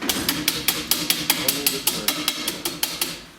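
A small wooden hammer taps brass in an even series of about fifteen sharp, ringing knocks, close and regular, each with a short metallic decay and no talk.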